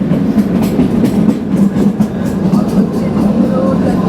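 The Kalka–Shimla narrow-gauge toy train rolls steadily along with a continuous rumbling clatter and rhythmic clickety-clack of wheels on rails, heard from inside a small carriage.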